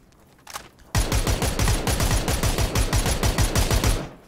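Rapid automatic gunfire in PUBG on Erangel, a dense, loud, close burst of shots at a fast steady rhythm lasting about three seconds after one brief earlier report.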